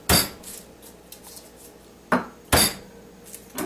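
Garlic cloves smashed on a kitchen board to loosen their skins for peeling, a few sharp loud whacks with clattery metallic ringing, spaced irregularly with quiet gaps between.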